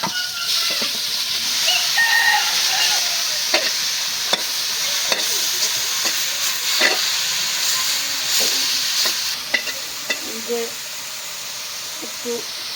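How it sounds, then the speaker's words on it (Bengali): Bottle gourd greens frying in oil with garlic, a continuous hissing sizzle with scattered spoon clicks and stirring scrapes, and a voice speaking intermittently nearby. "এই যে এখন লাউ শাকটা তেলে ভেজে নিলাম"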